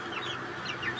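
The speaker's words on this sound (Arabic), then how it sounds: "هذا دجاجة. هاي السوداء دجاجة شباب" A black hen clucks several times in a quick, moderately close run among farm fowl, with a faint steady background.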